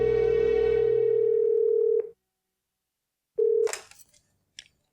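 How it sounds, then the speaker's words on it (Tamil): A telephone rings in a classic Tamil television drama: one long, loud, steady tone, a pause, then a short second burst that ends in a clatter, with no voices. "கார்த்தி ஃபோன் பண்ணான் சென்ட்ரல் ஸ்டேஷன்ல இருந்து"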